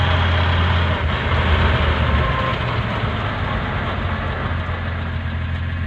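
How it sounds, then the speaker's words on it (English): Dodge Power Wagon driving in third gear high range, with a steady loud engine drone and constant gearbox whine running unbroken throughout, no talking. "It's not too bouncy, not too many rattles, just a lot of noise from the gearbox."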